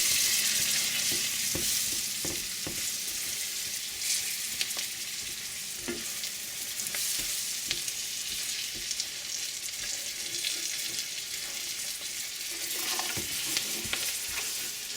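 A spoon stirs a garlic chutney mixture with chili powder and salt in a frying pan, giving a steady close sizzle with repeated scraping and clinking strokes over about fifteen seconds and no talking.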